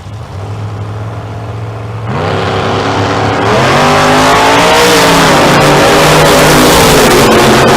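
A Chevy Beretta drag race car with a Huntsville engine roars loudly at close range, holding a steady tone and then climbing hard in pitch as it accelerates down the strip.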